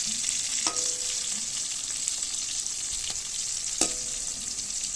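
Sliced onion and capsicum fry in hot oil for a kadhai chicken, a steady bright sizzle with a couple of light stirring clinks of a utensil against the pan.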